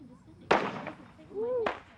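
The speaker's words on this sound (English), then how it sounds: "Then some fireworks." Fireworks going off during a family outing in Nebraska, with a sharp loud burst followed by a crackling tail, then a rising whistle and a second bang near the end.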